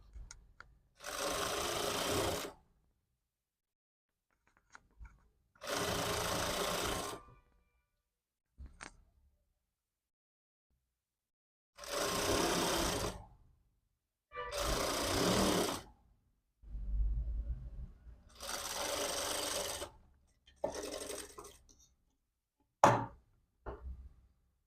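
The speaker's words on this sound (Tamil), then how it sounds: "டைரெக்டாக ஒரு தையல் போட்டுருங்க." A sewing machine stitches a back-open princess-style jacket in a series of loud, close bursts of rapid whirring, each lasting a second or two and separated by silences, with a few short clicks and bumps between runs.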